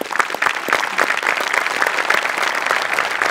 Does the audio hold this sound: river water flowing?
no